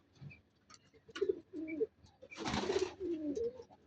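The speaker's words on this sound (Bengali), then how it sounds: "আমার এই সাদা কবুতরগুলা আমি এক জোড়া আনছিলাম।" White pigeons cooing in soft, repeated low phrases, with a short burst of wing flutter or scuffling partway through; several birds close by, with no talk.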